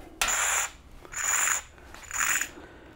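Rope running through a ceiling-mounted kayak hoist pulley: three separate ratcheting, whirring pulls with a metallic squeak, each lasting about half a second, close and clear with short pauses between.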